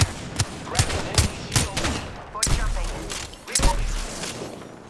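Gunfire rings out in an Apex Legends match as sharp, loud shots arrive in irregular bursts, some heavy and booming, with short gaps between volleys.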